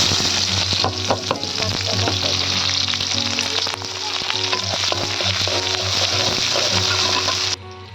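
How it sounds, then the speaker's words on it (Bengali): Garlic and dried red chillies fry in a pan for a Bengali home-style dish, sizzling loudly and continuously throughout with scraping stirs and small clatters mixed in, and no voices. "এদিকে রসুন আর শুকনো মরিচ ভাজা হয়ে গেছে"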